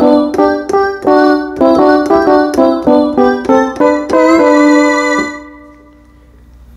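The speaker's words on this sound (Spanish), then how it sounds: "Y el otro sonido es del D50." Roland D-50 synthesizer played on a keyboard, a bright rhythmic sequence of repeated chords and notes at close range, then a held tone that fades into quiet, no speech over it.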